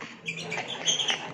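Caged birds kept in an enclosure give faint, high chirps and tweets over a steady background hiss, several short calls scattered across a brief stretch.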